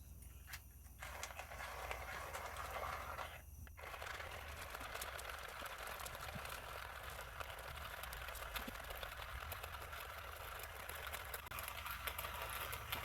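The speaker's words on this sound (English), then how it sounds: "We're gonna grind some beans." A coffee grinder steadily grinds beans outdoors beside a pellet-burning hobo stove, giving a continuous rattling, buzzing whir with two brief pauses near the start, fairly faint and with no voices.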